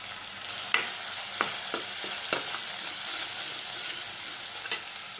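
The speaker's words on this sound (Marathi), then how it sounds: "टमाटा चांगलं तेलामध्ये परतून घ्यायचं।" Tomato and homemade masala sauté in hot oil for a ridge gourd curry, giving a steady close sizzle broken by several sharp clicks and scrapes of a spoon stirring in the pan.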